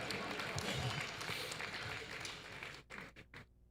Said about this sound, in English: I hope you, please clap for me.